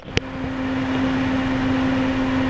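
Raijintek Aidos CPU cooler fan spinning at 100% speed, a steady close whooshing air noise with a constant tonal hum, preceded by a brief click at the start.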